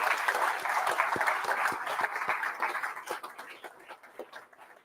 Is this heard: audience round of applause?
yes